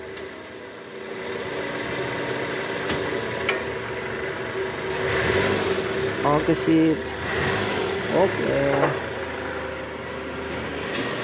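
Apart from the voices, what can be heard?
Toyota Estima engine idling smoothly after balancer shaft replacement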